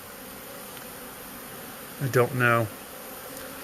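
A honeybee swarm hums quietly near a post, with a few close buzzing passes of individual bees standing out briefly, and a voice speaks softly once.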